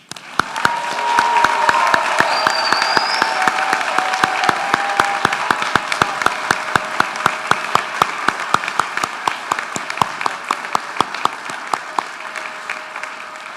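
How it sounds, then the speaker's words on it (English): Loud, sustained applause fills a hall at a DPT and HPE class of 2026 hooding and pinning ceremony, dense clapping throughout with a few crisp individual claps standing out as it slowly eases. "I think we should clap for them one more time."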